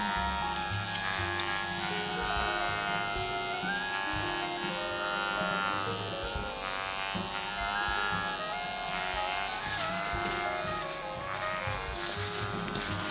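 A nano hair stroke permanent makeup machine for eyebrows hums with a steady electric buzz, close and continuous throughout, with no talking over it.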